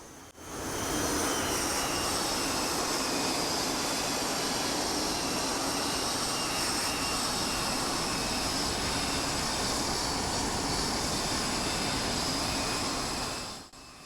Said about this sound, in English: I do particularly like the sound of the engine when you put it in idle in flight.